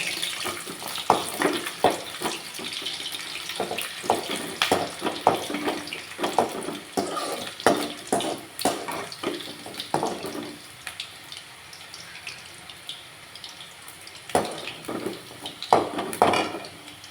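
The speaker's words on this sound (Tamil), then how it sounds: "நல்லா பொறிஞ்சு இந்த சொட சொடப்பெல்லாம் அடங்கட்டும் அப்போ தான் இந்த பூண்டோட ஈரம் போகும்" Garlic fries in hot oil while cooking tangy gongura (sorrel leaf) thokku, making dense, irregular crackling and spattering pops close by. Scattered clinks of utensils sit under the pops, which ease off toward the end.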